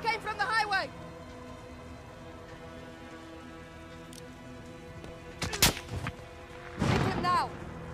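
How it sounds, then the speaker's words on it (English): Sniper shots ring out in a Modern Warfare campaign scene as a couple of sharp, loud cracks mid-way, over a constant rain-like hiss, with shouted voices before and after. "Those shots came from the highway!"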